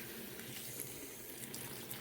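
Cold tap water runs steadily into a small sink while horse hair is rinsed, a continuous close hiss and splash with no speech over it.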